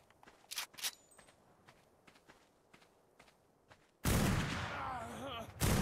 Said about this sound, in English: That guy survived a shot from the rifle.